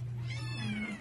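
A Siamese stray cat gives one drawn-out, close and fairly loud meow, heard alone.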